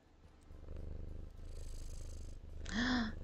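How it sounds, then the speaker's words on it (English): A happy cat purrs close to the microphone in a steady, low, rhythmic rumble, then a brief higher tonal call rises over the purr near the end. "Oh, such happy purr."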